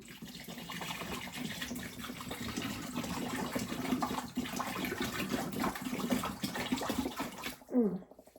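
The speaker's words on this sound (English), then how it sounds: "Put a little bit of our purified water." Purified water poured from a container into a gallon jug while making homemade grape wine, a continuous splashing, gurgling stream with a brief clunk or squeak at the end.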